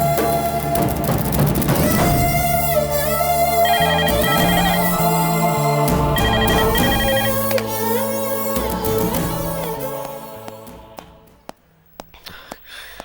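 A telephone rings loudly with a melodic electronic ringtone that repeats its tune for several seconds, then fades into quiet with a few scattered faint clicks.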